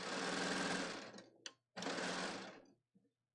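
A serger sewing machine chains off the fabric edge of a little girl's sundress, with two close, loud whirring runs split by a short pause and a faint click at the end.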